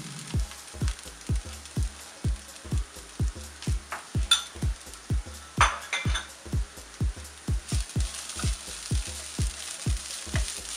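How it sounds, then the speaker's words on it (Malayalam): Sliced onion and grated coconut sauté in a pan for a coconut squid roast, a spatula scraping in steady strokes about twice a second over a soft, continuous sizzle, close and clear with no talking. "ഞാൻ ഇതിനകത്തോട്ടൊരു 2 ടേബിൾ സ്പൂൺ തേങ്ങ ചേർത്ത് ഇതുകൂടെ ചേർത്തൊന്ന് വഴറ്റാൻ"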